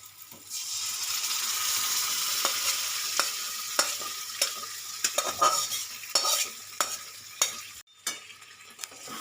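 Fish-head moong dal masala with garam masala stirred in a hot pan, a loud frying sizzle under repeated sharp spoon scrapes and knocks against the metal, close up with no talk.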